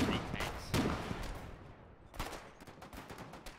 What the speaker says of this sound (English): They're shooting with ATRs